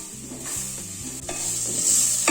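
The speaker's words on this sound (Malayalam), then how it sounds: "ഇപ്പൊ പൊടികളൊക്കെ ഇട്ടുകൊടുത്തിട്ട് നന്നായിട്ടൊന്ന് വഴറ്റി കൊടുത്തിട്ടുണ്ട്" Spice powders for a chicken stew in coconut milk sizzle in a pan over a low flame as a spoon stirs and scrapes them, close and continuous with a faint tonal background.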